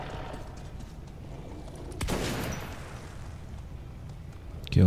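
Gunfire in the shooter video game Metro 2033: a sharp shot lands midway with a burst of noise, then a short quiet stretch and another loud hit at the very end, over faint background game ambience.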